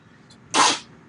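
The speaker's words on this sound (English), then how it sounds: "Bless you." A single loud human sneeze, a sharp burst lasting under half a second with a faint intake just before it, heard alone and close by.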